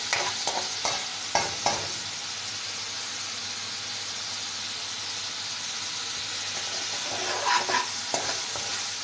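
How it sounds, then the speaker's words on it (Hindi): Oil sizzles steadily as ginger, garlic and spices fry in a pan, with a few soft stirring scrapes near the start and again toward the end. "तो थोड़ा सा भून रही हूँ"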